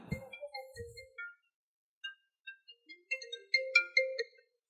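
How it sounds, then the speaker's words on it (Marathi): A phone ringtone plays from a pocket, a short series of bright electronic tones, first sparse and then quicker, fairly clear with silence between phrases. "फोन काढा त्यो तुमच्या खिशात वाजवतोय फोन"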